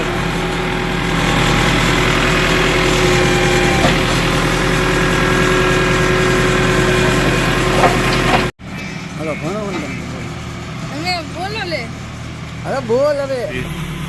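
A tractor engine idles with a steady low rumble while it is loaded at the GIDC Navapara area of Wankaner, then cuts off abruptly, leaving several people talking nearby.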